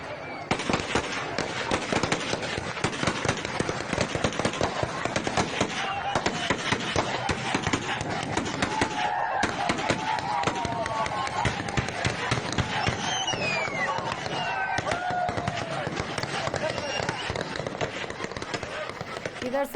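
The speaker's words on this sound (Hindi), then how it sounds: "अब ये गोलियों की आवाज सुनिए।" Rapid, dense gunfire near the Balochistan–Pakistan border crackles continuously as a steady stream of close sharp reports, with faint voices mixed in.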